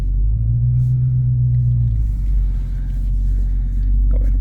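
A 2023 Dodge Charger SRT Hellcat Widebody Jailbreak idles with a deep, loud low rumble close by. Its V8 drones steadily as it begins to pull off, with a brief tonal rise early on.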